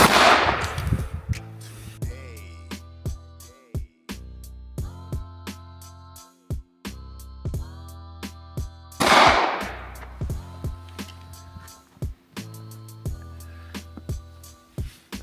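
Sharp, loud gunshots from a firearm at a shooting range during malfunction-clearing drills, sounding as isolated cracks and short bursts, with a few clicks of the action between shots.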